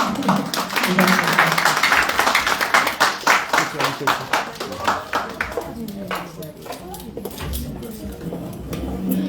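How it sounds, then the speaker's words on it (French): A church congregation applauds at a youth and children's service, with sharp separate claps that thin into scattered ones, under a murmur of voices and light clinks. "Applaudissements"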